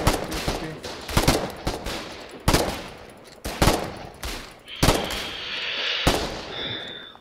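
Heavy gunfire rings out in a video game battle: a series of loud, sharp shots and bursts at irregular intervals, each trailing into an echoing rumble, with a lingering hiss toward the end.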